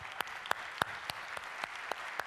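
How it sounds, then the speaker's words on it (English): A single person or a few people clapping in an audience, about eight distinct sharp claps spaced slowly and irregularly, fairly faint and alone with no talk. "Let's give her a round of applause."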